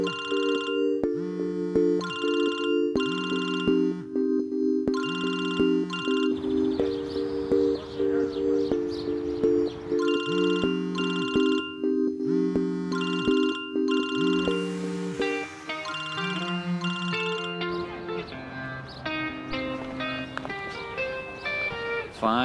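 A phone ringtone repeats over and over without being answered in a comedy scene, playing a steady looping electronic melody in close, regular bursts that continue for the whole stretch, with music-like tones toward the end.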